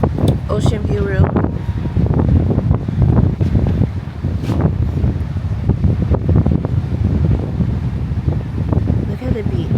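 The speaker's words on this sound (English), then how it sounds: "It's so windy out here, like it just picked up out of nowhere" Strong wind gusting at a beach in Tulum, roaring as a steady broadband rush and buffeting the microphone throughout, with a voice speaking over it.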